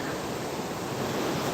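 Floodwater on the White River near Enumclaw rushes as a dense, continuous roar of broadband noise at an even, steady level, with no voices.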